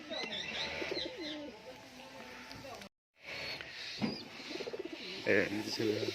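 Teddy kamagar pigeons coo in a loft, soft repeated calls and chirps close by, mixed with someone talking throughout.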